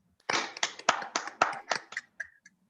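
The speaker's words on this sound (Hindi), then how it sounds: "जोरदार तालियों के साथ में।" A few people clap to welcome a speaker at a business meeting: roughly a dozen distinct, fairly faint claps in an uneven rhythm that thins out and stops.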